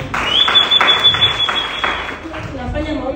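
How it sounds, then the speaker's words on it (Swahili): Congregation clapping in a church, a mass of hands sounding over a high sustained tone and talk, the clapping loudest at first and thinning toward the end. "Pigieni makofi."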